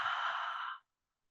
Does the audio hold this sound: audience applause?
no